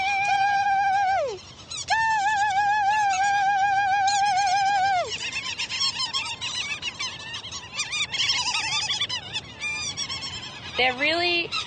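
Territorial burrowing birds call near their burrow in Tasmania or New Zealand, loud honking, warbling cries in long sustained phrases that rise and fall, close and repeated over several seconds.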